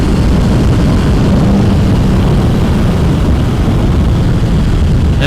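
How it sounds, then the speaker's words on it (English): Steady, loud roar of wind buffeting a rider's helmet on a Honda CBR650R motorcycle at speed, a dense unbroken rush with low rumble throughout and no speech. "How about a wind blast?"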